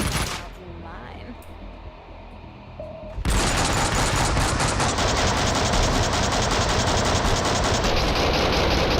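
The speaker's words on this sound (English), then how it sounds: "Who's shooting? Where the fuck did that come from?" Gunfire in Max Payne 2 erupts after a quiet few seconds into a dense, continuous rattle of rapid shots. The fire stays loud and unbroken to the end.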